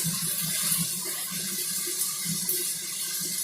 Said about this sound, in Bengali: আর একটুখানি জল দিয়ে দিই, তবে যাতে লেগে না যায়।